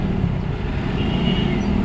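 Heavy road traffic on a city expressway, a dense continuous rumble of engines close by with a brief higher whine passing through, loud and steady throughout.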